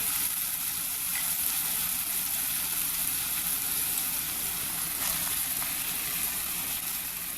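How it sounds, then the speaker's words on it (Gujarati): Onion, curry leaves and spices sautéing in a pan for a moong dal dish, a steady close sizzle and frying hiss that runs evenly throughout with no talking. "તમે જોઈ રહ્યા છો કે મસાલો થોડો સોતે થઈ ગયો છે."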